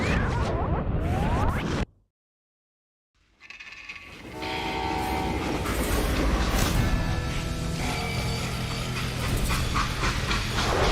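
A freight train in the Call of Juarez: Gunslinger video game rumbles and clanks loudly, cut by a brief silence, then returns with heavy rolling wagon noise and sustained tonal horn-like whistling over a deep steady rumble.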